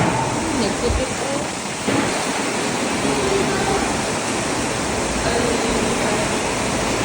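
Heavy rain pours down outside a school classroom with three broken windows, a dense, steady roar of water that fills the whole stretch without letup.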